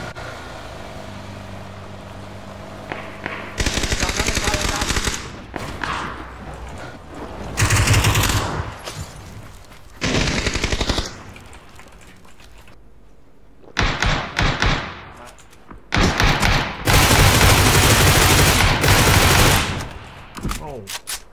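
Gunfire rings out in the video game PUBG as loud, intermittent bursts of rapid automatic shots and single cracks, spread across a long stretch with quieter gaps between volleys.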